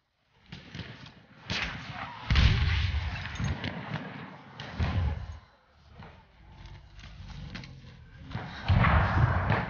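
Bomb explosions in the Battlefield 1 open beta come as a series of muffled, booming thuds and rumbles in irregular bursts, moderately loud, with brief pauses between impacts.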